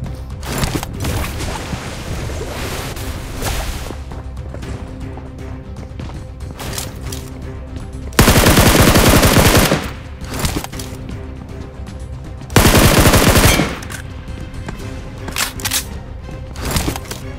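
An air gun fires in the BGMI battle royale game: two loud, sustained bursts of rapid shots stand out against quieter in-game ambience and footsteps.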